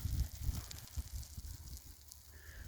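Sprinkler irrigation sprays water over a wheat field on a rural farm, a steady broadband hiss of falling spray over low gusty rumble, continuous and moderately faint throughout.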